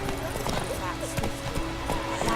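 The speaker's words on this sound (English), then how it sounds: "Whoa there, Roach" Hooves clip-clop in a quick galloping rhythm as a horse, Roach, runs in The Witcher 3 video game, close and steady beneath a speaking voice.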